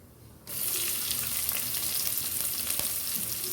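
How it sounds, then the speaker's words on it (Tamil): Onions frying in oil in a hot pan for chicken gravy, sizzling loudly in a steady crackling fry that continues without talk. "இது நம்ம நல்லா கோல்டன் ப்ரௌன் ஆகிற வரைக்கும் வதக்கிடலாம்."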